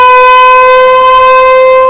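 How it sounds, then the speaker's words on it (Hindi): A war air-raid siren sounding during a mock drill: a loud, sustained steady wail held at constant pitch throughout, close and alone with no other sounds. "जंगी सायरन भारत में बजेंगे"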